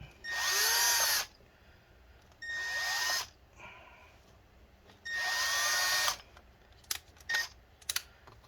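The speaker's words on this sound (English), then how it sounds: "Sometimes drilling faster actually helps," Three close, loud whining bursts from a power drill drilling into an Acer Aspire A717-72G laptop, separated by short pauses and followed by a few sharp clicks and taps, with no voices.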